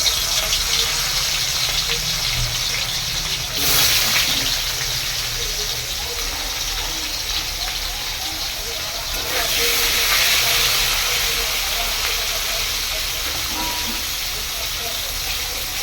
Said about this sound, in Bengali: পনিরটা এবার ভেজে নেব।